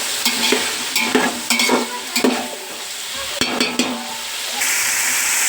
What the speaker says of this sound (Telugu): ఆనియన్ టమాటాస్ ఇవన్నీ కూడా అందులో వేసి బాగా తిప్పుకోవాలి